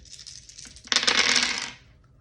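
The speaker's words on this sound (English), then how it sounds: "I'm going to actually roll the dice" Several dice tossed together and rattling onto a hard surface, a brief clattering burst lasting under a second after quiet, close and fairly loud, then settling into silence.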